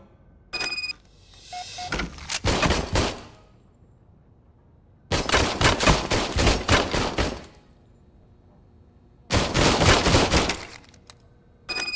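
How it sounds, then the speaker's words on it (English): RoboCop's service pistol firing in RoboCop Rogue City, three separate rapid volleys of sharp shots, each lasting a second or two, separated by quiet pauses. "I was issued this old gun and serviced it according to the manual. I will try it out."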